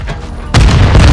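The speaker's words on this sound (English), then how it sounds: "Grenades, grenades." A grenade detonates in Call of Duty: Modern Warfare 2 Search and Destroy, a sudden loud close boom after a quieter half-second lead-in, its heavy low rumble ringing on to the end.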